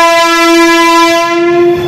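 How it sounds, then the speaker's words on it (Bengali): An orange Vande Bharat train at Asansol station sounds a loud, close, sustained horn. The tone is steady and rich and lasts almost two seconds without any break. "আর এটা বন্দে ভারতেরই হর্ন, আওয়াজটা শুনে তাই তো মনে হলো।"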